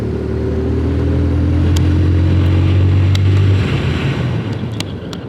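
A TVS Apache RTR 160 2V or Bajaj Pulsar 150 Twin Disc motorcycle braking hard with front and rear brakes together: a loud steady engine drone with wind rush that winds down as the bike slows.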